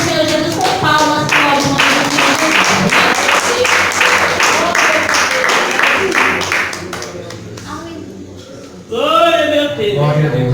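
A church congregation at a Portuguese-language evangelical service claps in steady rhythmic unison alongside loud singing or speech, then the clapping fades and a voice speaks alone.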